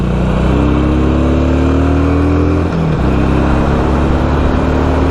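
A fuel-injected Harley-Davidson Sportster engine runs steadily up close, a loud, even low throb that dips briefly partway through before settling back to the same note.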